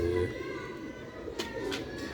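A black-faced Sialkoti pigeon coos softly in a few low, faint calls while someone talks nearby.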